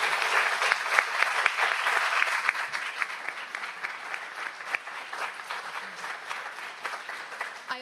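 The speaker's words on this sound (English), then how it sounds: "So please join me in one final round of applause for our judges." Steady audience applause for the judges at the final round of a moot court competition, a dense sustained clapping from a large room that stays loud throughout and eases slightly toward the end.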